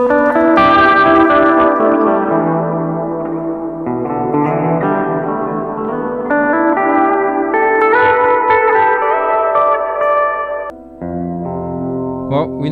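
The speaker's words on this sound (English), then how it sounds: "Reverb, hall." Electric guitar chords ringing through a hall reverb pedal preset, notes sustaining and washing into a long spacious tail, loud and close, no talking.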